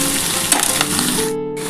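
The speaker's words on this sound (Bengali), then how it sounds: "আলু পেঁয়াজ কলি আর পেঁয়াজ আমি একসাথে কিন্তু একটু ভাজা করছি।" Potatoes, onion greens and chopped onion frying together in a pan, with a steady loud sizzle and faint stirring scrapes throughout.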